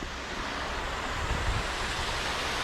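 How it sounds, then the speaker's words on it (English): A small stream runs under a little bridge into the Tay estuary, producing a steady, broadband rush of flowing water that stays constant throughout. "see on a hot day the sound of running water like that is so refreshing"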